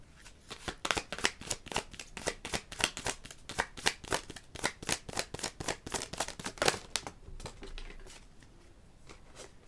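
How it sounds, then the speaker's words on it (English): Tarot cards being shuffled and pulled, a rapid run of crisp, close riffling snaps and flicks that fades into a softer rustle near the end, with no talking. "I did want to pull a card from this"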